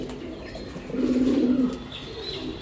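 A racing pigeon coos in a low, throaty warble that swells for a moment, with a quieter coo trailing after, close by and without talk.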